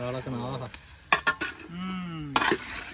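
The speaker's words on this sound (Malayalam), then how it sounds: "ഇനി ചിക്കൻ ഇട്ട് നമ്മൾ ഇങ്ങനെ ഇട്ട് ഇളക്കണം." Chicken pieces go into a hot cooking pan and get stirred: sharp metallic clanks and scrapes of a utensil against the pan over a soft sizzle, with a voice talking at the start and in between.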